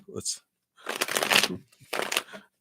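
A deck of cards being shuffled for a card reading, riffled in two loud bursts with a short pause between and a brief soft rustle at the start, close and clear.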